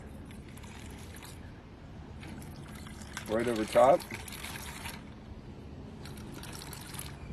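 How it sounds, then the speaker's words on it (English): Orange juice poured from high into a mixed drink with peach schnapps, giving a short liquid splash of about a second midway, heard over low background noise and speech. "And then a little OJ"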